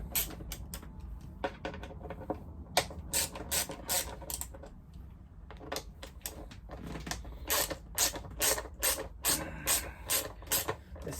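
A hand tool works on a bolt of the screen brace on a BMW F750 GS motorcycle, giving a run of quick, close ratcheting clicks in bursts, loudest and most regular toward the end, with no talking.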